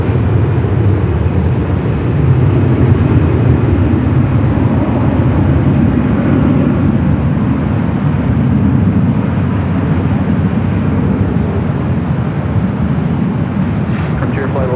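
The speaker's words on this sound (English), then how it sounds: "Avianca, next takeoff, 24 left." Avianca airliner taking off from runway 24 Left at LAX, a loud, steady broadband jet roar sustained throughout with no break.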